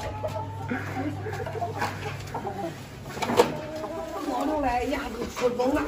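Several roosters and other farm chickens cluck and call in a rural village yard in winter, mid-distance and intermittent, while people chat nearby and a steady low hum runs underneath.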